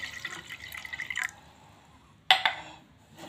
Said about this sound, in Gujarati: ઠંડુ પાણી રેડું છું